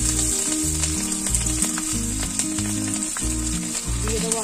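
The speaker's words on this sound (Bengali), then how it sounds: "দিয়ে দেবো কাঁচা লঙ্কা চেরা" Slit green chillies frying in hot oil with cumin seeds and bay leaf give a steady, close sizzle that carries on without a break and without any voice.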